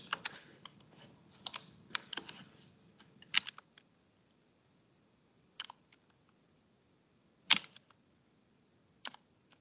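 Someone types on a computer keyboard, entering symbols into matrices in Mathcad: quick bursts of close, crisp key clicks, then sparse isolated keystrokes separated by quiet pauses.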